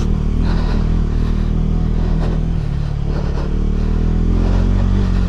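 A KTM 390 Adventure motorcycle engine drones loud and close throughout as the bike picks its way over wet, slippery rocks and grass, with a steady throbbing note and faint rattles.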